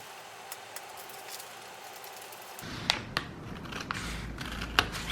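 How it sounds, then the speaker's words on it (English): Scissors cutting folded fabric on a kitchen island: a quiet hiss, then soft rustling and several crisp snips at close range, with no voices. "I'm cutting this fabric at my kitchen island since this is the longest table"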